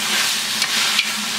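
Boiled mutton frying with masala in a pot, a dense close sizzle with two quick scraping stirs during a short burst.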